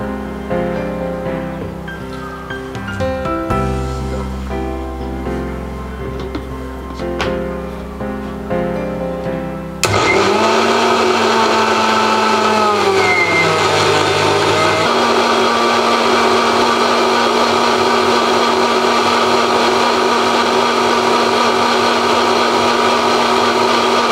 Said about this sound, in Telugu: ఇప్పుడు ఈ పుదీనా ఆకుల్ని మిక్సీలో వేసుకొని రసంలా తయారు చేసుకుందాం.